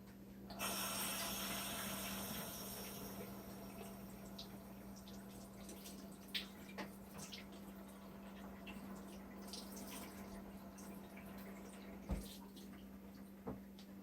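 Tap water running steadily to fill and rinse out cans, a continuous close splashing rush with a few brief clinks, no talking.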